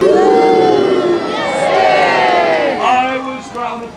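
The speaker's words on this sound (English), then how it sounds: "I want a great big cheer." A large outdoor crowd cheers and shouts together at a trebuchet demonstration, a loud sustained roar of voices with children's high whoops rising and falling.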